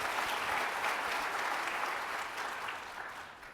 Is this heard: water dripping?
no